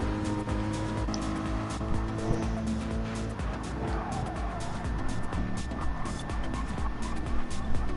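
A Corvette GT3 race car engine roars continuously at Daytona in a racing video game, a steady loud drone with shifting pitch and faint tyre scrub, with other cars passing nearby.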